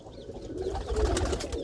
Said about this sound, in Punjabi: ਇਹ ਦੇਖੋ ਕਬੂਤਰੀ ਆ